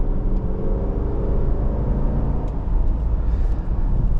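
Steady V8 rumble from a 2023 Dodge Durango R/T Blacktop with the 5.7L Hemi, a continuous loud engine drone heard from inside the cabin on a drive, with no talk over it.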